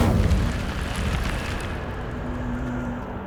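The Incendio fire spell in a wizard video game erupts in a loud, fiery burst of whooshing flame right at the start, then slowly dies down into a softer, crackling rumble.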